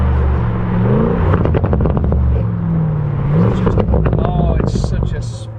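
Lamborghini Urus fitted with a Milltek race exhaust, deep engine rumble rising and falling through revs, then sharp crackles and pops as it downshifts, loud and close, with excited talk over it.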